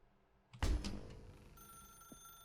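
A telephone rings in The Stanley Parable video game: a loud bell-like burst starts partway in and decays, with a sustained electronic tone and a faint second hit afterward.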